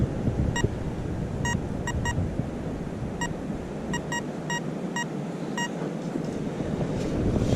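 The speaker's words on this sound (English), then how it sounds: "high tone. I don't know if you can hear it beeping." A Fisher CZ-21 or Minelab Equinox metal detector on a beach beeps a high electronic tone in short, irregular pulses over steady wind noise, with roughly a dozen beeps spread across the clip.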